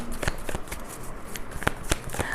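An Osho Zen tarot deck is shuffled by hand, giving a close, continuous riffle of cards with sharp slaps and flicks on a steady papery bed of sound.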